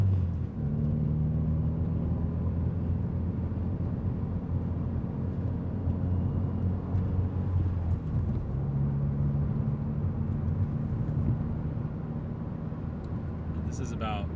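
Steady low cabin rumble inside a Mazda NC Miata driving with the soft top up, constant engine and road drone with faint tonal hum shifting slightly as speed changes, near and continuous.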